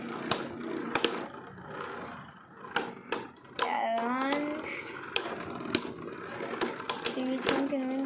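Beyblade Burst Turbo tops spin and clash in a stadium, with sharp clicking impacts and a rising whir, while people talk over the battle.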